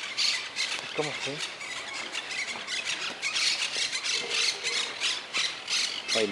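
Parrot squawking near its nest in a plaza, a run of harsh, scratchy calls close by while a person speaks briefly.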